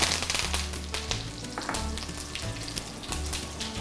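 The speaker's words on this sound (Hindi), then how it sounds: "उसमें डालेंगे 1 बड़ा चम्मच तेल, 1 छोटा चम्मच राई का दाना डालेंगे, साथ में डालेंगे थोड़ा सा कड़ी पत्ता" Mustard seeds and curry leaves crackle and sizzle in a spoonful of hot oil while Gujarati fafda accompaniments are cooked, a steady close frying hiss with scattered pops alongside a low rhythmic tonal pattern, no voices.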